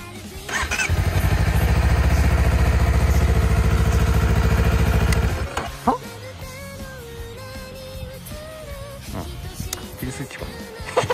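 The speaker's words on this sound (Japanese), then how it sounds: "よし、じゃあちょっとエンジンかけていきたいと思いますよ。" A Honda CBR250RR motorcycle engine cranks and fires into a loud, dense roar for about four seconds, then drops away to a quieter uneven idle with clicks and handling noises.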